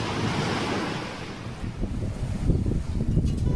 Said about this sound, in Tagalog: sobrang kakaiba ang mga alon